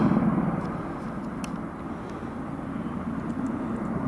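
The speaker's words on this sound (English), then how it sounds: "that's low. Two military helicopters." A loud, low rotor and engine roar fills the air, a steady heavy drone from two military helicopters passing close overhead.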